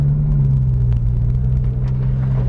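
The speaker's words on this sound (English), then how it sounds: "I'm just going to show four-wheel steer in a U-turn and how tight you can actually make this U-turn." Porsche 991 GT3 making a tight four-wheel-steer U-turn, its engine a close, steady low rumble at modest revs with no talk.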